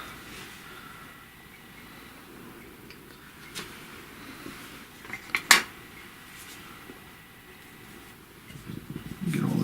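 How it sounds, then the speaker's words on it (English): A spatula scrapes thick fudge out of a blender jar in a home kitchen, with soft scraping and a few brief knocks and clinks against the container, growing busier toward the end. "Just scrape it all out with a spatula"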